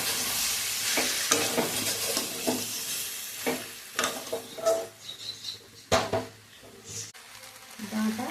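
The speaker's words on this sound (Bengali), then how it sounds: "আমরা একটু হালকা করে নাড়াচাড়া করে নেব" Vegetables with green chili paste stirred in a pan give repeated scraping strokes and clinks of a spoon over a low sizzle, uneven and close, with a voice talking in between.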